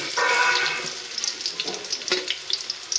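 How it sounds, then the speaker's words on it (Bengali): Lentil fritters (dal bora) frying in hot oil: a steady, close sizzle with light crackling and a few soft scraping stirs as the fritters are turned, with no voices. "তো এইভাবে দু সাইড লাল করে ভেজে নেব।"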